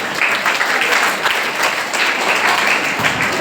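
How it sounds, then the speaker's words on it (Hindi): An audience at a school quiz final claps loudly and continuously in a dense, steady burst of applause for a winning house team. "समर्पण हाउस के लिए जोरदार तालियां बजा दें"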